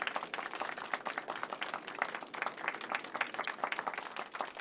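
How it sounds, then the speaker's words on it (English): Steady applause for a pianist from a small audience in the video game Final Fantasy 7 Rebirth, soft and continuous clapping for several seconds with no voices. "let's give our pianist a warm round of applause"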